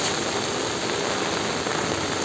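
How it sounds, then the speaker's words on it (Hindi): Heavy monsoon rain pours down in Ahmedabad during flooding, a dense, loud, unbroken roar of drops hitting surfaces, close and constant throughout, with no voices. "देख सकते हो कितनी तेज़ बारिश हो रही है।"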